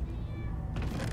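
Several cats meow in the Minecraft Story Mode video game, a high tonal meow at the start, then a denser burst of overlapping cat calls near the end over a low game background hum.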